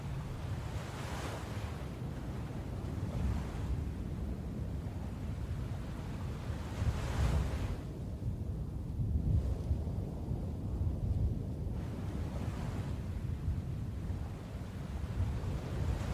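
Ocean waves wash up onto a beach, with rolling surf rising and receding in repeated swells over steady wind noise; no voices are heard.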